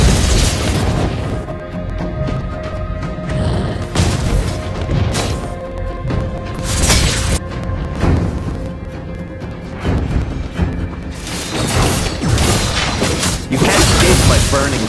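Fire skill explosions from a mage hero in Mobile Legends Bang Bang gameplay, with repeated booming blasts and crashing bursts layered over dense game effects and an energetic announcer-style voice.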